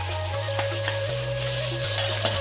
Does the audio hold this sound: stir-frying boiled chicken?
yes